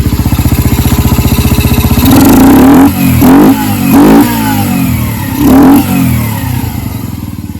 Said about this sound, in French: pour que vous puissiez comparer avec le bruit de votre moto